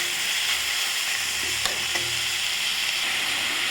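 Tomatoes with salt sauté in a pan for a Tirunelveli-style pork curry, giving a steady close hiss and crackle with a couple of faint stirring scrapes partway through.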